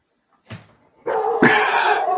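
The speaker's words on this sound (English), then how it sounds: "What are you barking at?" A dog barking near an RV, a short yip followed by a loud, sustained bark-whine close by.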